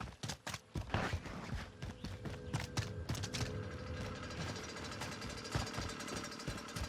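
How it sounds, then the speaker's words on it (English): A motorcycle engine in the game Warzone runs at a steady low rumble, joined by irregular thuds and footstep-like knocks, with no talk over it. "The motorcycle sounds like shit, boy."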